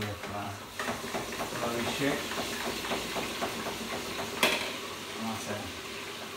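Chips deep frying in a fryer send out a continuous bubbling sizzle and hiss, close and moderately loud, with a brief sharper crackle partway through and a voice speaking over the frying.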